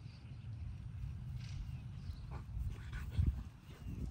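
Dogs stir close by, with a soft whimper and shuffling over a low, steady background, before a slightly louder burst near the end; no one talks.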